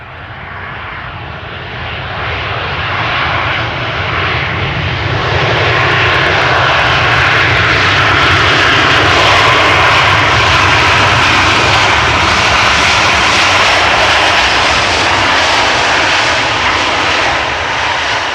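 Passenger jets such as 737s and A320s arriving at Amsterdam Schiphol Airport, a loud broadband engine roar swelling in over the first few seconds and then holding steady and close, with no voices.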